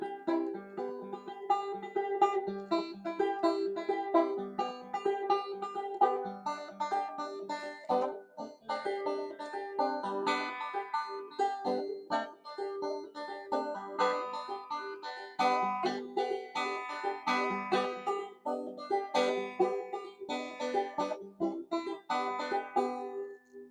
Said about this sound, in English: this is the sound of the resonator banjo